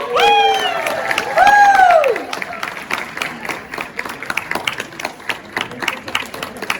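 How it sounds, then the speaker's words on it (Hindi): A crowd claps and cheers steadily after a loud shout, the dense applause continuing under scattered voices. "जोर से तालियां प्लीज।"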